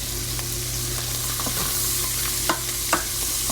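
Sliced onions stirred in a hot pan, a steady close sizzle with a few light scraping knocks of the utensil toward the end, no voices.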